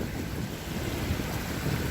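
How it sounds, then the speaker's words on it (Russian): Steady wind buffets a microphone on a boat during a fishing trip in rough weather, a dense continuous roar with low rumbling gusts and no voices. "наконец-то немножко успокоился ветер"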